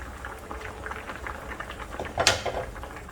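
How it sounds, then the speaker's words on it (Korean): A lentil and pumpkin stew simmers in a pot over medium heat, soft bubbling and popping throughout with one brief louder clink near the end, quiet and close. "자, 중불로 또 5분을 끓입니다"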